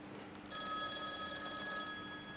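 A mobile phone rings indoors with a steady, fairly quiet electronic tone that keeps repeating, heard on its own without any talk.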